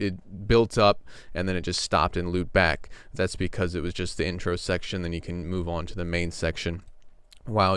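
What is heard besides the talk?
No everyday noises stand out.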